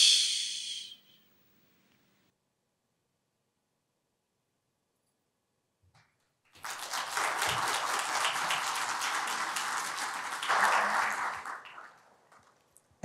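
Applause from an audience at an award ceremony for an EU human rights short film competition. It follows a brief sharp sound and several seconds of silence, then builds into a steady wash of clapping that fades out.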